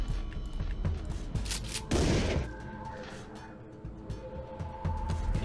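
A single heavy shotgun blast in the video game Dead Age 2 booms out over a quiet, low background, then fades into soft ambient noise.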